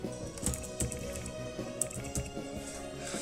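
A name typed on a computer keyboard, soft irregular key clicks in quick succession, close and fairly quiet, with no talking.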